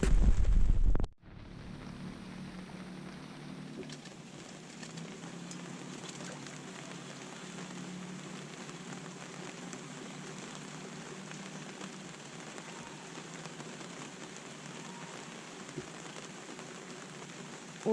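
Steady rain hisses evenly across the whole stretch during a rainy-season outing fishing for giant freshwater prawns, following a brief loud burst at the very start.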